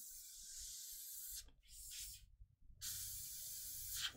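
An airbrush sprays paint onto miniatures in short bursts of steady close hiss, broken by brief pauses between passes.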